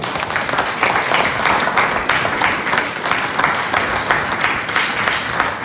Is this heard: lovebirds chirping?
no